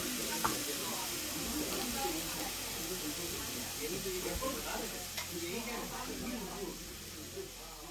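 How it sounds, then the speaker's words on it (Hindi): Kebabs sizzle and crackle on a hot sizzler plate, a soft continuous frying hiss with scattered pops, fairly quiet and close. "इसमें से आपको सिजलिंग साउंड सुनाई दे रही होगी"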